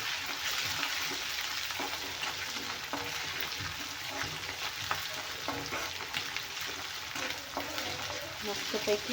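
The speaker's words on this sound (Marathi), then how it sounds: "आता आपण आलं लसणाची पेस्ट घालूया 1 चमचा आणि तेही छान तेलामध्ये परतून घेऊया व्यवस्थित." Onion and ginger-garlic paste frying in oil, with a steady close sizzle and scraping stir strokes throughout, and a faint voice briefly underneath.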